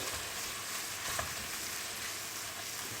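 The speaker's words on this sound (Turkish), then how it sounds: "Ee, bir 100 gram kadar kıymayı tavada kavuruyoruz." About 100 grams of minced meat sizzles and fries in a pan, a continuous crackling hiss with a light stirring scrape near the middle and no talking.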